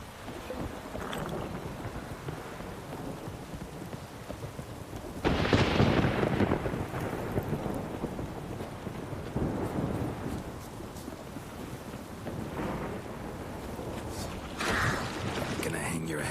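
Thunderstorm with heavy rain in the video game The Witcher 3, a steady wash of rain under a loud rolling thunder burst around the middle, with further rumbles later and a voice speaking over it at times.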